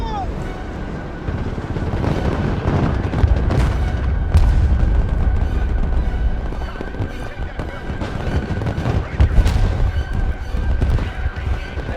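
Flares and explosions in the war game Broken Arrow: a dense run of loud booms and sharp cracks over a constant battlefield rumble, with a voice talking over the noise.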